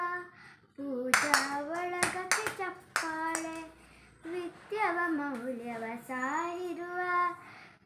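Children sing a song together while clapping their hands in time, the crisp claps landing in rhythmic bursts under their voices.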